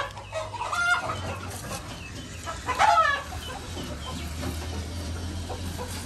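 Chickens cluck repeatedly at close range and a rooster lets out a short crowing burst midway, with softer farmyard clucking continuing throughout.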